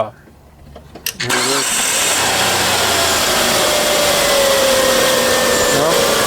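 A Hyundai Sonata engine, after a timing belt job, cranks over after a few clicks and settles into a steady, loud running drone with a faint whine, continuing to the end.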